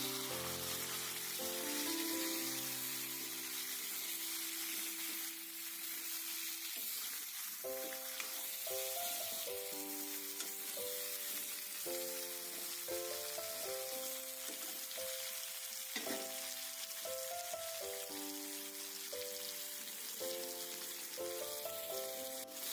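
Potatoes and pumpkin are stirred into duck meat cooking in a pan, giving a steady sizzle and bubbling throughout, with soft background music playing over it.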